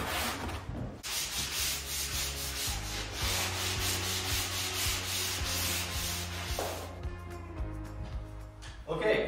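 Hand sanding drywall with a sanding block, a steady back-and-forth scraping rub repeating in close, even strokes, with a short pause near the start and another near the end.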